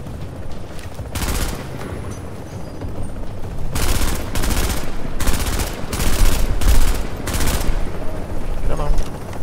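FAMAS rifle in a shooting video game firing several long sprayed bursts, loud and close, separated by short pauses, with quieter background sounds between them.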